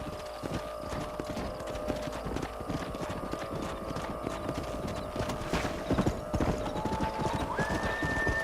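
Horses' hooves clip-clop steadily on the ground in the Red Dead Redemption video game, a dense run of close hoofbeats with a neigh and creaking tack, over a low ambient backdrop.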